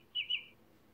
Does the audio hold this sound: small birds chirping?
yes